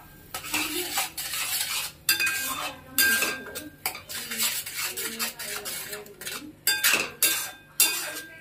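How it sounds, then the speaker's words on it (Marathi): Tomato paste with onion and spices being worked in a pan, mostly clattering and scraping of a utensil against metal in uneven bursts with short pauses, only a slight sizzle underneath. "आता हे कांदा आणि मसाले परतून झाल्याच्या नंतर आता टोमॅटोची पेस्ट"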